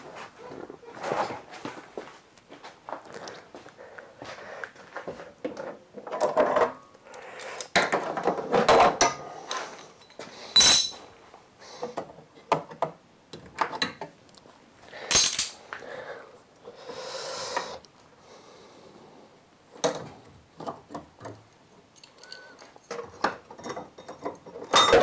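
Metal clamps being undone and removed around a newly installed Wilwood pedal box in a Ford Anglia, giving scattered clanks, knocks and rattles at close range with brief pauses between them.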